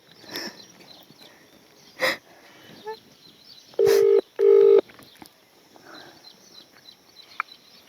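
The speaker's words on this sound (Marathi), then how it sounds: "मी ना माझ्या आजीलाच फोन लावते आता" A phone being dialed to make a call: two long, loud steady dialing tones in a row in a quiet indoor room, with faint household noise before and after.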